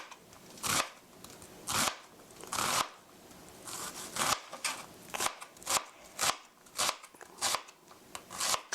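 Kitchen knife chopping vegetables finely into small half-centimetre pieces for mapo tofu, a steady run of crisp, close board taps that quicken into a fast regular rhythm, with no talking.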